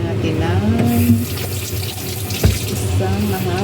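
Tap water runs steadily into a sink or container at close range, a continuous splashing stream with a brief louder splash midway, while someone speaks over it.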